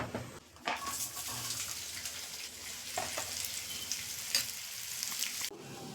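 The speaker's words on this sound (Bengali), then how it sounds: "চলো এবারে কাঁকরোলটাকে ভাজা চাপিয়ে দিই।" Spiny gourd (kakrol) frying in oil in a pan, a steady close sizzle with crackling bursts and a few louder spatters, heard alone without talking.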